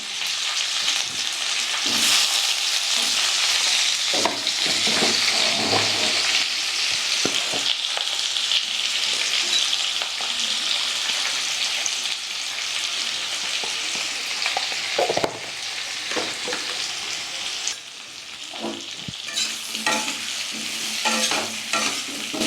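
Potatoes fry in hot oil alongside cauliflower and chicken, a dense continuous sizzle broken by repeated scraping and stirring clatters of a utensil in the pan, close and steady, with no talking.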